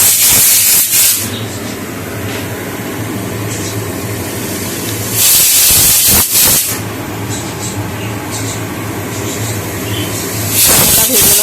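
A pressure cooker in a home kitchen whistles and vents steam in loud, broad hissing bursts that recur at intervals, with quieter kitchen noise between them.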